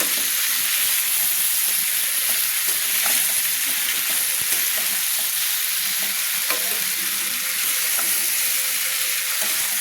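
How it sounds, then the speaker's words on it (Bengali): Fried soybean chunks sizzling steadily in a hot pan while being stirred, with a continuous bright hiss and occasional scrapes, close and loud with no talking. "সোয়াবিনগুলো ভেজে রেখেছিলাম সেগুলো আমি অ্যাড করে দিলাম, দিয়ে আমি ভালো করে নেড়ে নিলাম"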